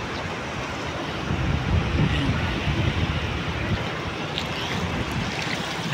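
Ocean waves roll up onto a shore in a steady, broad wash of surf, with wind buffeting the microphone throughout.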